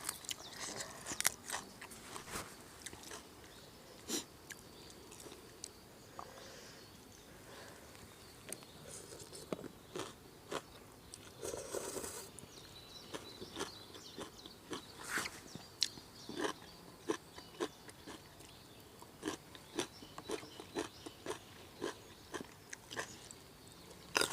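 Someone eats raw long beans, biting and chewing them in close, irregular crunches that repeat steadily throughout, with no talking.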